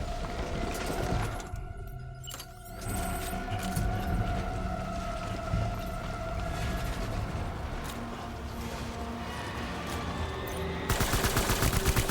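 Gunfire in the Death Stranding Director's Cut video game, bursts of shots and mechanical clatter over a loud droning game soundtrack, with a brief drop in noise early on and a harsher burst near the end.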